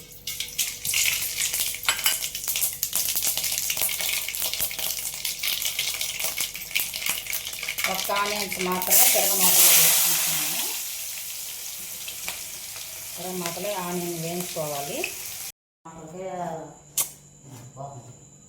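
Mustard, cumin and a little fenugreek seeds fry in hot oil for a tempering, giving a loud, steady crackling sizzle with sharp pops, while a voice speaks over it partway through.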